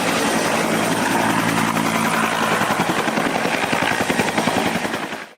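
A helicopter flies in Greenland, its rotor giving a loud, close, continuous rhythmic thumping over a steady engine drone that fades out at the very end.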